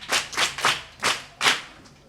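Applause from a small audience at a storytelling session, five distinct bursts of clapping spread over about two seconds, fairly quiet.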